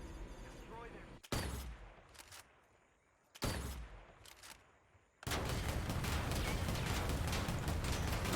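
Bursts of gunfire in the Predator Hunting Grounds video game shooting up computer hard drives: two sharp volleys with short pauses, then a sustained loud stretch of rapid fire, with some talk underneath early on.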